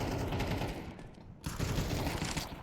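Dense bursts of Mag-7 shotgun fire from a Counter-Strike match, loud and continuous, dropping briefly into a hushed gap before the firing surges back with equal intensity.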